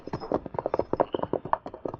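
Horse hooves clip-clop at a brisk, steady pace in a radio drama, close and clear, with dense overlapping hoofbeats and no talking.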